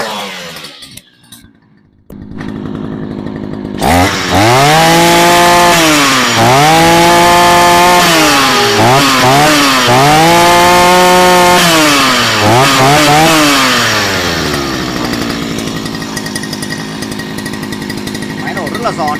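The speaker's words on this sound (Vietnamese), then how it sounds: "xin phép test nổ cho các bác nghe tiếng máy con Fukama này nhá" A small two-stroke Fukama brush cutter engine sputters to life after a pull, then revs up and down repeatedly in loud, whining surges close by before settling to a steady run.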